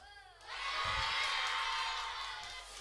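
A church congregation bursts into loud cheering and whoops, a dense crowd roar that swells after a brief lull and holds steady, with a few shouts rising above it.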